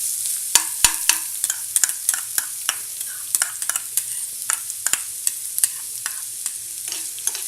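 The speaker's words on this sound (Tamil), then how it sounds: "போட்டு நல்லா வதக்குங்க." Finely chopped onions fry in hot oil in a pan while being stirred, a steady sizzle broken by repeated sharp scraping clicks of the spoon against the pan, close and alone with no voices.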